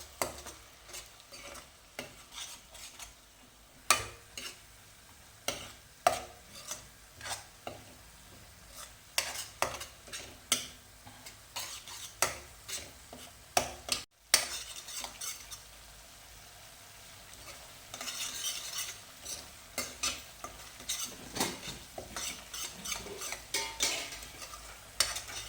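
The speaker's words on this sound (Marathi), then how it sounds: "याच्यामध्ये आपण आपली टोमॅटोची प्युरी घालून घेऊया." Tomato puree sizzles in a pan with roasted ginger and garlic for a hotel-style veg kurma, stirred with a spoon that scrapes and clinks against the pan in irregular bursts over a low, steady fry.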